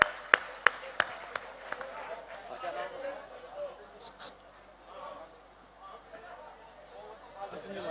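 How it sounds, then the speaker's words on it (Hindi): At a Shrimad Bhagavat Katha religious gathering, a few sharp, separate hand claps ring out close by, then fade into a low murmur of crowd chatter and talk. "एक बार उनके सम्मान में भी जोरदार ताली बजा दीजिए।"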